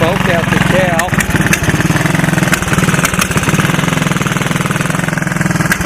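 The single-cylinder engine of a 1985 Honda ATC 200S three-wheeler, fitted with a GY6 12V portable ignition, idles loudly and close in a steady rapid chugging putter while a voice talks over it.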